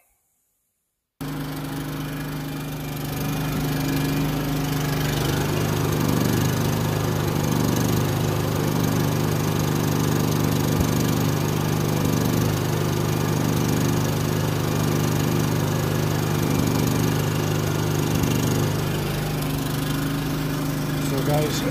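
A Firman WO3081 portable generator idles at its lowest eco-mode setting, starting abruptly after a moment of silence and then droning steadily and loudly nearby with an even hum and constant vibration throughout.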